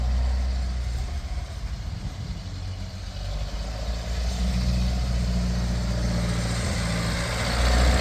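A Ferguson TEA20 tractor in need of carburetor work runs steadily on a roadside stretch during a gear test, a continuous low engine rumble that holds close and fairly loud throughout, swelling slightly toward the end.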